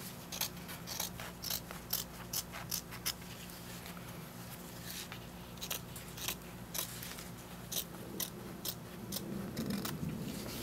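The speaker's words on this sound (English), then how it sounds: "snip a little bit of the fabric in the center and cut all the way to the edge" Scissors snipping through fabric while wrapping a frame mat, a series of short crisp cuts at an irregular rhythm, close and fairly quiet, with a steady low background hum.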